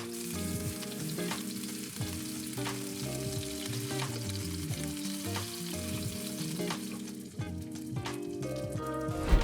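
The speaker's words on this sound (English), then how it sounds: "Fry the sausages for 2 minutes on each side on a medium heat." Sausages fry in a pan over medium heat, giving a steady, close crackling sizzle that carries on without a break and has occasional louder pops.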